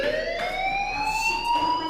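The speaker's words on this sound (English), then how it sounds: "do you hear that fire alarm?" A school fire alarm blares in the Life Is Strange video game, a loud, steady electronic siren tone that rises slowly in pitch and continues without pause.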